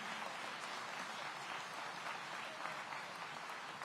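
Dense, steady applause from a large crowd, clapping continuously at an even level throughout.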